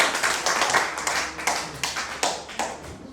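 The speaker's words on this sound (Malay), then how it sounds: "Bagi tepukan, bagi tepukan." A burst of applause from a small group in a classroom, uneven claps with rhythmic pulses, fairly close and loud.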